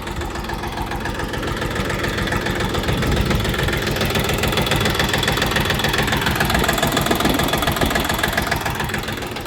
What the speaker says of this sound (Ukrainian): Трактор працює уже біля 50 мотогодин.